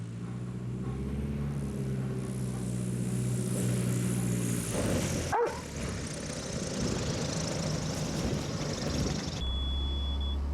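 Light propeller airplane landing between tall trees, its engine droning steadily and loud, then a brief drop and a rougher, rumbling stretch as power changes, with wind noise throughout and no talking.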